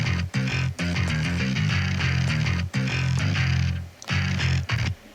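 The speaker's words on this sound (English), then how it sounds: "Playing the same thing, but it's a bass guitar." Bass guitar plays a plucked, rhythmic line of short notes with brief gaps, up close and alone.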